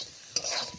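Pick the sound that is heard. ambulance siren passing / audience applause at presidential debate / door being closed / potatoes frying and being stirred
potatoes frying and being stirred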